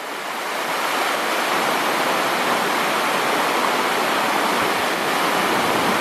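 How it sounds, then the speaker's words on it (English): A waterfall, Sherman Falls in Hamilton in winter, roars in a loud, steady, unbroken rush of falling water, close by and with no voices. "we'll look at the waterfall"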